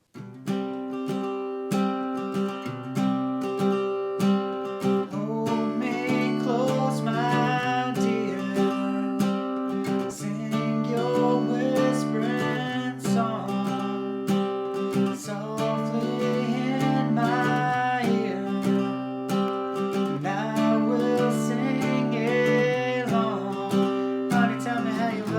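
Guitar playing the chorus of a song, a steady strummed and picked chord progression that runs continuously at an even, full level with no talking.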